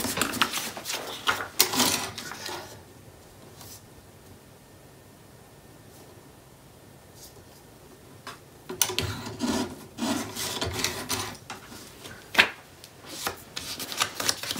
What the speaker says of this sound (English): It looks like I need to trim this down just a little bit.